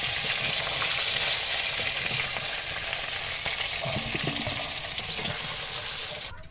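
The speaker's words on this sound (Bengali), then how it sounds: "মাংস কিন্তু খুব সুন্দর করে ভেজে নিলাম। এখন আমি তুলে নিচ্ছি।" Chicken meat fries in hot oil in a kadai while being stirred, a loud continuous sizzle with scraping stirs and occasional clinks running throughout before fading at the end.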